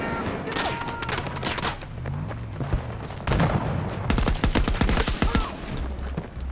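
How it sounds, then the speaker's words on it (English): Rapid gunfire in the shooter video game Battlefield 2042, bursts of automatic shots and heavy volleys, loud and close, coming in repeated clusters with brief pauses between. "Who's shooting me right now?"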